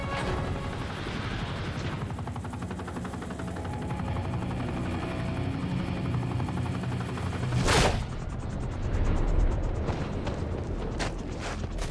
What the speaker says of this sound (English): A chopper has landed to take away the president